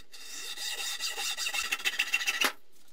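A tube for a high-power water rocket pressure chamber is trimmed at the end with a steady, close rasping cut that turns into quicker, choppier strokes before stopping abruptly.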